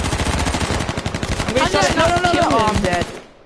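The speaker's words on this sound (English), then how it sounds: "Someone else shot me." Rapid bursts of gunfire in the battle royale video game H1Z1, a dense stream of loud shots over about three seconds with game sounds and voices mixed in, cutting off near the end.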